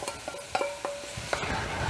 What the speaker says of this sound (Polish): Moja zasmażka zrobiła się lekko brązowa, więc wlewam tą miksturę.